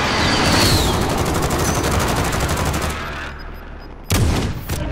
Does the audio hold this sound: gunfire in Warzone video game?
yes